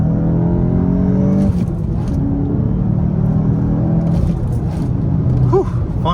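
A turbocharged 2022 Volkswagen Golf GTI Mk8 with a six-speed manual pulls hard under acceleration, a loud droning rumble with rising whir and gear changes, heard from inside the car.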